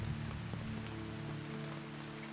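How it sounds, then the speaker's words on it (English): Rain in the pixel-art adventure game Eastward, a soft even hiss of falling rain under low hum-like game music tones, continuous and moderately faint, with no talking. "Razor, rain again."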